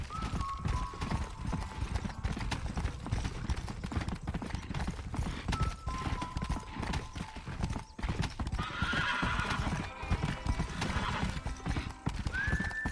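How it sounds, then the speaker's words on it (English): Horse hooves clip-clop at a steady rapid gallop in the Red Dead Redemption video game, with loud whinnies and neighs rising over the hoofbeats along with game ambience. "This horse is not as fast as my other horse was"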